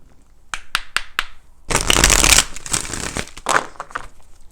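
Crisp tarot card shuffling: a few quick separate riffles, then a long loud dense burst of flicking cards that tapers into scattered snaps.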